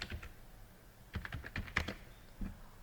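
Several keystrokes on a computer keyboard type a short search term, the clicks light and fairly close, arriving in an uneven burst with pauses between them.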